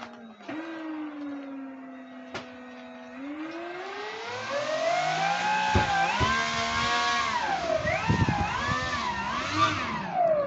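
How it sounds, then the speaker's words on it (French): A single engine on a 1/6 scale RC Skyvan SC-7 model plane whines up from idle into a rising, wavering high-pitched drone that revs up and down for about ten seconds, loud and close. "Il n'y a qu'un moteur d'allumé."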